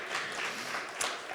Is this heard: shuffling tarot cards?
no